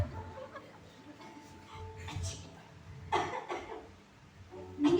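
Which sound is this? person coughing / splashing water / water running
person coughing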